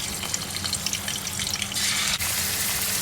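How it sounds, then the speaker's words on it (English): Chicken pieces frying in hot oil in a pan on high flame, a steady loud sizzle that swells louder partway through, with no talk. "I'm going to start frying up my chicken."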